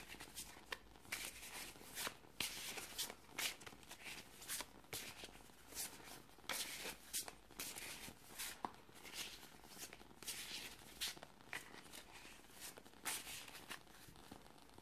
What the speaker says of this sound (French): On va à présent battre le jeu de cartes avec douceur et délicatesse